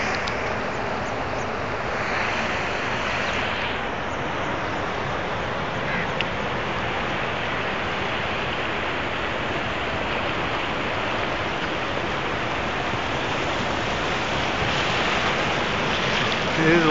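Hogenakkal waterfall and river water rush in a steady, dense roar that stays loud and unbroken throughout, with no voices standing out above it.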